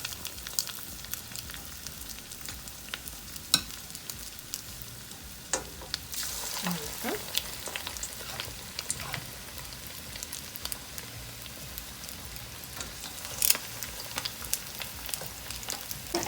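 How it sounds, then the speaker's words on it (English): Crab-stuffed hush puppy batter fries in hot oil with a steady bubbling crackle, scattered sharp pops and occasional spoon clinks over about sixteen seconds, close and moderately quiet. "And we're going to drop it into the hot oil."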